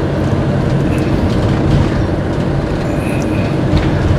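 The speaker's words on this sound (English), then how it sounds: "There's a tram coming up alongside us." A tram rumbles past close alongside on a narrow road in Kehl, Germany, a heavy continuous mechanical roar with faint clicks and squeals, steady in loudness throughout.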